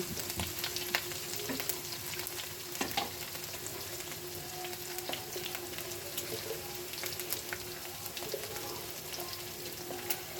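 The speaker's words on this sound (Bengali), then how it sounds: "পেঁয়াজ দিচ্ছি, কাঁচামরিচ দিচ্ছি" Onion and green chilli fry in a pan with a continuous soft sizzle and scattered pops and crackles, fairly faint and steady throughout, with no voices.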